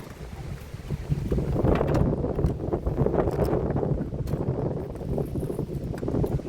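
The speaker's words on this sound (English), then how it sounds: "Woo, it's windy." Wind rushes and buffets the microphone in gusts while magnet fishing by the water, with faint knocking and water-like sounds beneath the steady roar.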